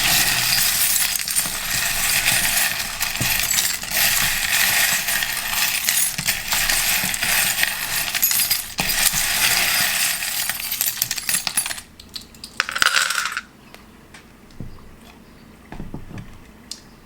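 A continuous bright metallic clattering of small metal charms pouring and jingling runs for several seconds before stopping, followed by scattered light clinks.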